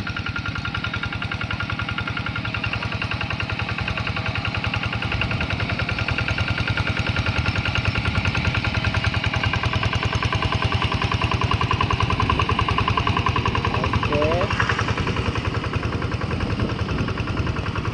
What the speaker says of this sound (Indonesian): Awas, traktor mau lewat lagi teman-teman.